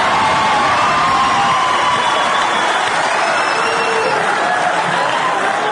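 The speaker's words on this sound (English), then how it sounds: "if you listen to both of us, cheer" A live audience cheering and applauding at an evening stage event; a sustained, loud wall of clapping and shouts with a few high whoops riding on top.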